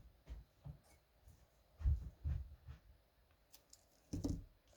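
Scissors snipping paper for a pop-up card, a series of faint, quiet crisp cuts and clicks at uneven intervals, close and alone.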